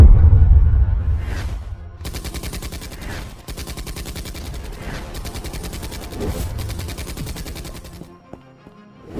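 Rapid automatic gunfire bursts loud and close in a dramatic scene, ringing out as a dense rattling fusillade for most of the span, then dropping off into quiet near the end.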